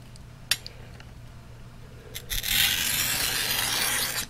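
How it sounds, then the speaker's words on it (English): A special glass cutter scores a piece of borosilicate glass, a close, gritty rasping scrape lasting about two seconds after a few light taps and clicks. "Did not realize there is a special cutter out there that cuts this glass so slick, so easy."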